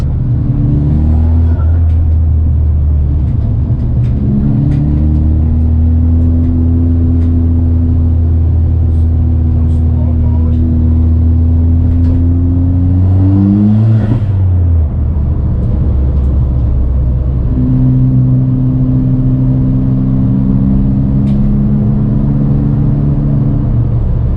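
A Ford Fiesta ST's engine drones loudly from inside the car as it slows and pulls into a corner, its pitch sagging, dropping out briefly, then rising again.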